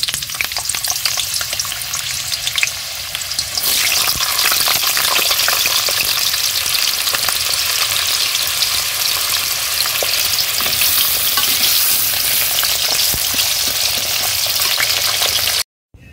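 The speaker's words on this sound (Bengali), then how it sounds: "তো আগে ভেজে নেবো, এই যে আলুগুলো দেবো" Potatoes frying in a pan of oil, a loud continuous crackling sizzle that swells sharply after the first few seconds as the pieces go in, then holds steady close by.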